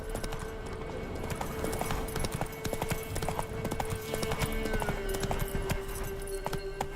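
A horse gallops in The Witcher 3 video game, rapid hoof clip-clops drumming steadily over a constant tonal hum and game ambience.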